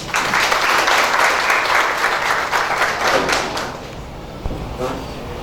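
An audience at a blood-bank quality conference in a hall gives loud, sustained applause to welcome a speaker. The clapping then tapers off into scattered claps and a few thumps.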